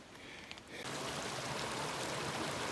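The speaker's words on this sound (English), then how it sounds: "brook or creek babbling away as it heads down towards the Kiowa" A small brook babbles downhill on snowy Mt Hotham, heading toward the Kiowa. It rises after a quieter opening moment into a steady, close, hissing rush of flowing water.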